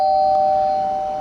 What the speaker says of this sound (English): that's how you get that two-tone front door ring